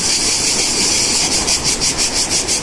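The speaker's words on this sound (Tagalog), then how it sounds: "Ang ingay ng mga kuliglig." Loud, dense crickets trill steadily outdoors at a campsite, their high shrill chorus pulsing in a regular rhythm over a constant hiss, with no talking.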